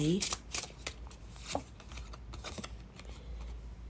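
Tarot cards being shuffled, a run of quick papery flicks and riffles with a few louder slaps, close and fairly soft under a steady low background hum.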